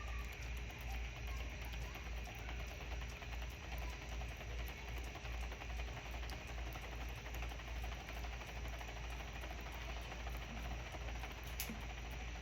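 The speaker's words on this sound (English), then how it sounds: "We will turn the power to on, and we will start spinning." A spin art machine's motor turns steadily at a relatively slow speed, giving a continuous whirring, ratcheting mechanical drone that stays even and close throughout with no talking.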